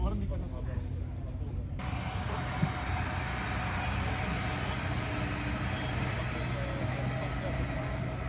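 A train rumbles past with a steady, dense roar of wheels on track, continuous and fairly close, with a voice speaking over it.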